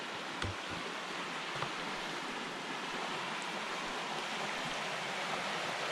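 The Little Missouri River in Ouachita National Forest, Arkansas, rushes with a steady, broadband wash of flowing water, close and constant with no voices.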